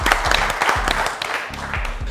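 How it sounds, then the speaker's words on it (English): An audience applauds at a secondary schools quiz competition between Mt. St. Mary's Namagunga and Ntare School, producing a brief patter of clapping under light voices. "Let's give a huge round of applause, ladies and gentlemen"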